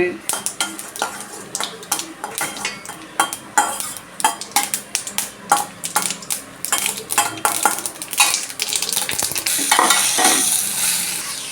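Mustard seeds pop and sizzle in hot oil in a pan for South Indian adai dosa, a dense crackle of sharp spattering snaps over a steady frying hiss that builds toward the end.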